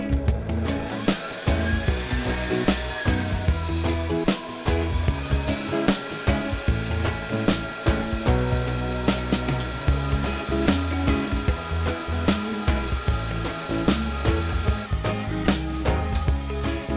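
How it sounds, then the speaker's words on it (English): An electric mixer whips egg whites as sugar is gradually added, its motor whirring loudly and continuously with a dense, slightly rhythmic churning texture and no voices. "While our egg whites are whipping"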